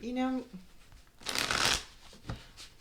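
A Runic Tarot deck being shuffled, a brief close riffling burst of cards following a short spoken word.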